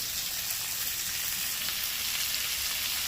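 Chicken manchurian frying in a pan with dark soy sauce, a loud, dense, continuous hiss and crackle, close up and without talking.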